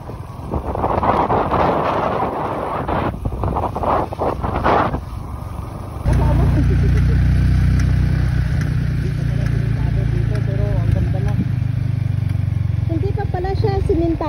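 A motorcycle climbs a steep concrete shortcut road between Valderrama, Antique and Lambunao, Iloilo, its engine a steady loud drone under heavy wind buffeting, with a person talking over the first half.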